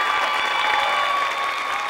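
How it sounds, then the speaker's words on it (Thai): A studio audience at a Thai dating show claps, a dense, steady burst of applause that fills the space without a break. "ต้องปรบมืออย่างรุนแรงแน่นอนครับ"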